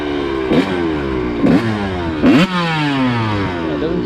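A Suzuki RM125 two-stroke motorcycle engine idling a little low, running loud and close with an uneven burbling putter and three brief blips of throttle, with no voices over it.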